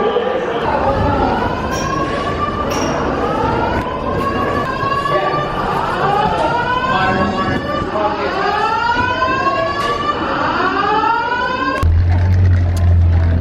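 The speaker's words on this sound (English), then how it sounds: "Another fire alarm." A university building fire alarm wails loudly and continuously, its rising sweeps repeating in a steady cycle that dominates the scene, with a brief extra burst of noise near the end.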